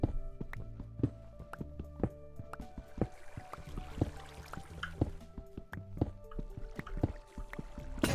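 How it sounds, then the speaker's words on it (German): Flowing water in the Minecraft video game, a soft liquid wash with light sloshing and scattered dripping clicks repeating steadily throughout, fairly quiet with no talking. "Da kommt hier wieder Wasser."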